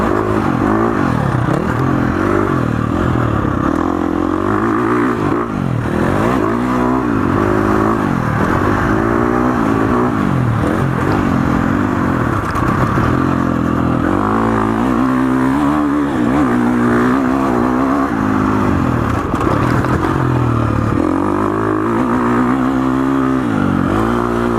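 A 2019 KTM 350 XCF dirt bike engine runs loud and close throughout, rising and falling in pitch as the rider twists the throttle and changes load, with no talk over it.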